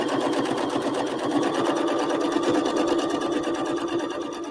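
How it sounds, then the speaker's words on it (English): A sewing machine runs steadily, top stitching along the folded edge of fabric, its fast even needle rhythm continuous and close throughout. "And then I can get consistent top stitching"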